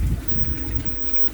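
Water drains steadily from a backyard pool with a green filter, a continuous low rushing trickle that stays close and even throughout, with no voices over it.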